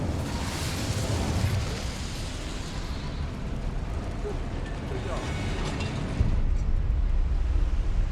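A roaring, crackling blast of the Incendio fire spell in the video game Hogwarts Legacy, a dense rushing burst that swells and sustains, with another surge near the end, under game noise.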